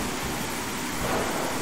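Steady thunderstorm rain rolls on in the Gas Station Simulator video game, a dense, even hiss with low rumbling underneath that holds throughout without any talking.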